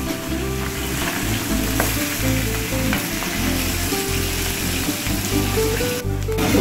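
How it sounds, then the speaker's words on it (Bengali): Pabda fish sizzling in hot oil in a pan for a Bengali fish curry, a loud, dense, steady crackle that runs without a break throughout, with no talking. "এইবারে পাবদা মাছগুলো ছেড়ে দেওয়া হচ্ছে।"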